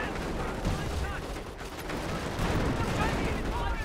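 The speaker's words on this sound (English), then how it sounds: "Artillery now running in." Artillery and gunfire rumble continuously through a Company of Heroes battle, a dense, loud wash of booming impacts and crackling shots with no clear gaps, with a voice talking over it.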